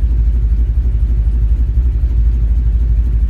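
An LS V8 swapped into an S10 idles with a lumpy, galloping lope and lifter chop, a loud, deep, close rumble pulsing in an uneven rhythm throughout, with no voices.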